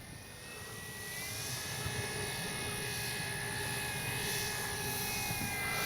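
An RV8 60E electric RC airplane taxis toward the runway, its motor giving a steady whining hum with a faint high tone that swells slightly and holds, alone without talk.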